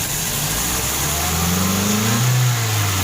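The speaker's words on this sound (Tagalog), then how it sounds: "Ayan, andito tayo sa harap ng makina. I-revolution natin." The engine of a Toyota Altis with a misfire, heard up close from in front of the motor, revs up in a loud rising drone and then eases back, a constant mechanical roar throughout.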